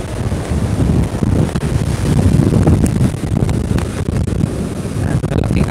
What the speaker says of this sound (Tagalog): malaking alon at pumahampas dito sa bayan ng Sangay